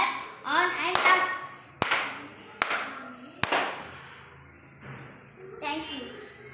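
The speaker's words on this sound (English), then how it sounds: "sound sensor project when I clap on and off." Several sharp hand claps at uneven intervals switch a sound sensor on and off in a school robotics class, with children's voices and talk around them.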